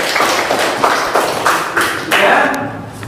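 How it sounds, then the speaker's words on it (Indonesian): A classroom audience during a performance exam claps in several uneven bursts, close and moderately loud, tapering off near the end. "kasih tepuk tangan untuk"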